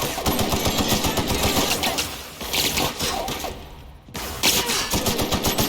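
Rapid automatic gunfire bursts in the video game The Outer Worlds, loud and sustained with short pauses and a brief lull near the middle, no talk over it.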